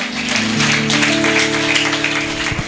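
Church congregation clapping loudly and continuously, with sustained tonal music or voices ringing underneath throughout.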